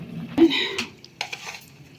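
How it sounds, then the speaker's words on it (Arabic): A spoon clinks and scrapes inside a cooking pot of lentils, a few sharp metallic knocks followed by softer stirring scrapes, close and fairly quiet. "اديله بقى تقليبه حلوه كده اهو"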